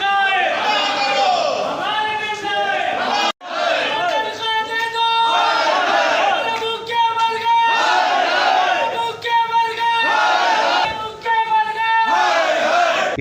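Union workers chanting slogans in unison while circling a head office during a protest, loud rhythmic crowd shouting with repeated call-and-response phrases, sustained and close.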